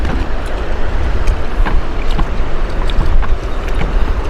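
Ocean waves wash continuously along a muddy mangrove shoreline, a close, steady roar mixed with wind buffeting, with no talking.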